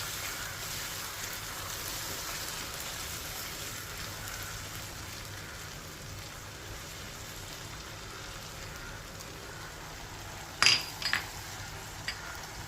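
Tomato puree goes into a pan of fried onion and garlic for chicken kheema, giving a steady, moderate sizzle throughout, with a few sharp spoon-against-pan clinks near the end.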